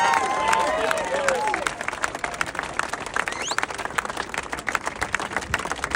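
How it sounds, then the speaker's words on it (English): An outdoor crowd in Wellington applauds Andy and his team at the finish of a swim, sustained clapping with some cheering, while voices and a whistle-like tone sound early on. "Let's give Andy and his team a round of applause"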